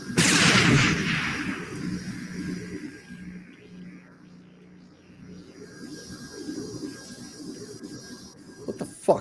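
A grenade explodes in Mass Effect with a loud broadband burst at the start, then a rumbling decay fades into quieter ambience, with a few small clicks near the end.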